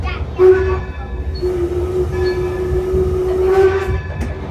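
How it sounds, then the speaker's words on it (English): A Baldwin steam locomotive sounds a steady, loud whistle tone held across most of the span for a crossing, over the low rumble of rolling railcars, with a fresh swell of the whistle near the end. "Locomotive just gave those 4 blasts of the whistle, 2 longs, or short and long, indicating we're coming over a crossing"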